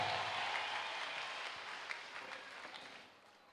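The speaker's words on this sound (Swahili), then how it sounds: "Ongeza makofi na vigelegele kwa Bwana." A church congregation applauds in a dense, steady wash of clapping that slowly thins out and fades over a few seconds, with no clear voices standing out.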